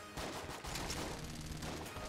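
Voidcore Cannon firing in a video game, a dense, steady barrage of blasts running almost unbroken for two seconds, loud and close with a low rumbling body.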